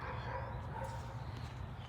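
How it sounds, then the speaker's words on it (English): A dog barks somewhere far off behind a yard freshly spread with mulch, its faint yips and woofs muffled and sparse beneath a steady low outdoor rumble. "And in the distance, a dog barked."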